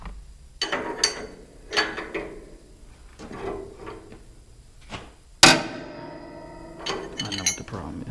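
A ratchet works on bolts of a burnt-out wood chipper clutch, giving short bursts of clicking with pauses between, then a sharp metallic clank and more ratcheting, close up.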